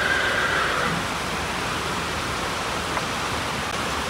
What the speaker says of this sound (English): It's pouring rain. There's just a major storm coming through.